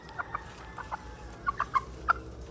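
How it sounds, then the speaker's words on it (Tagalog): White Kelso chickens clucking in a netted free-range area, a scattering of short soft clucks at irregular intervals, moderately near over a low background hum. "At safe na safe yung mga manok natin dito."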